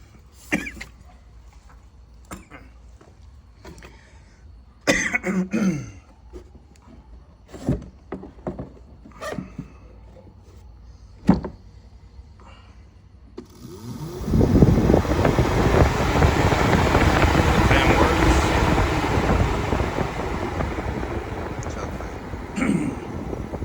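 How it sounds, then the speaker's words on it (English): Engine cooling fan on a 2000 Jeep Grand Cherokee V8 4x4, fitted with a new fan clutch, blades and idler pulley, whooshing in a loud, steady broadband rush for the last ten seconds, after a quieter stretch of scattered knocks, clicks and coughs. "this is what the fan sounds like. I don't like the way it sounds. It's not touching anything."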